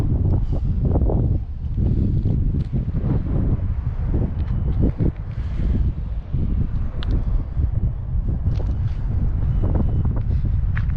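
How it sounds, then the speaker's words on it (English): Strong wind blows across the rocky hilltop of Twin Peaks in San Francisco, buffeting the microphone in loud, continuous gusts with low rumbling roar throughout, with no other sound standing out. "it's definitely windier here than it is coming down below."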